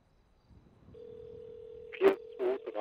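A phone call in GTA V roleplay, a short burst of dialing tones followed by a steady ringing tone with a few brief tone pulses on top, clean and quiet.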